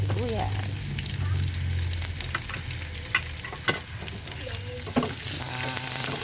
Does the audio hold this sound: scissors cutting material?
no